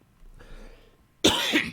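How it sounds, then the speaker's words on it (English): A single harsh, close cough bursts out after a moment of quiet room noise. "Excuse me, that's me doing the cough thing."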